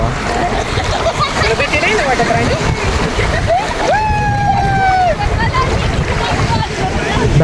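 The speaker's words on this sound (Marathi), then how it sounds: "लाटा व्हायच्यात." Sea waves splash and surge close by on a beach at sunset, a steady rough wash of surf and wind noise, with a brief whistling tone in the middle and people talking and laughing throughout.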